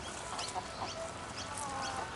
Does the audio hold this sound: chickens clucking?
yes